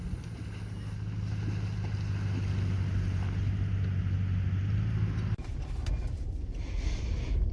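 A Ford F-150 FX4 pickup, stuck in an offroad mud hole, holds a low, steady engine drone under strong wind rumble, which drops away abruptly near the end into scattered noise.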